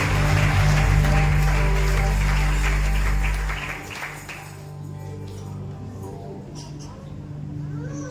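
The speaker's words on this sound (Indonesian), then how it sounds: "Tepuk tangan saudara lagi semuanya." A church congregation at a thanksgiving revival service claps and applauds loudly for the first few seconds, then the applause fades out and a voice speaks over a quieter hall.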